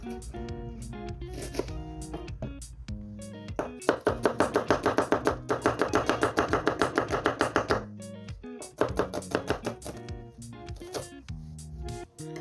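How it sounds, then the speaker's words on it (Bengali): A knife chops onion on a board in a fast run of crisp, close knocks, preceded and followed by slower, scattered cuts and handling noises, with no talking. "প্রথমে আমি আপনার পেঁয়াজ কাটি"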